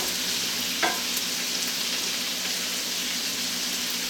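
Mushrooms go into a pan of softening vegetables for deep dish pizza filling, producing a soft, continuous sauté sizzle with one small clink of a utensil early on.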